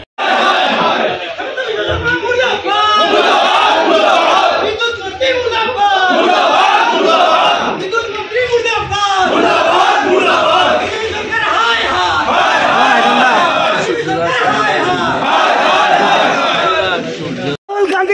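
About 150 party workers gathered at a party office compound chant anti-government slogans against prepaid smart meters, a loud, dense crowd of shouting voices sustained almost without pause, rising and surging in rhythmic waves.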